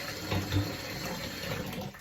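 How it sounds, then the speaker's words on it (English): Warm water for a foot soak sloshes and trickles steadily up close in a short, continuous stretch, with no voices. "we want to soak in warm water for 3 to 5 minutes"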